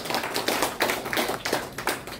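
Applause from an audience at the opening of a solo calligraphy exhibition in a gallery, a steady patter of clapping hands with uneven bursts, fairly close and continuous throughout.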